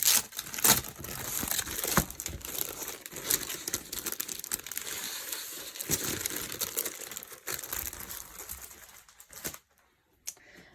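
Paper sheets, some with velvety flocked bits, crinkle and rustle continuously under close handling as they are shuffled and tucked away, with sharp crackles throughout and a brief quiet near the end.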